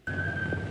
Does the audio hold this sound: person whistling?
yes